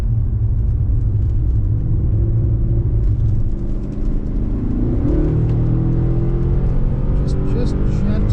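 A car being driven at speed around a race track during a track-day session, sliding slightly, its engine a steady close rumble with occasional rises, while people inside talk over it throughout.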